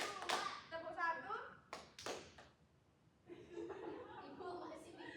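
During a classroom group clapping game, children and an adult make a few sharp hand claps and taps among lively talking and chuckles, then the room goes briefly quiet before voices resume.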